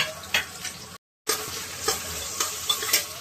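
Onions and green chillies fry in a pan with a continuous hiss and popping crackles, briefly interrupted by a short gap of silence before the sizzle resumes.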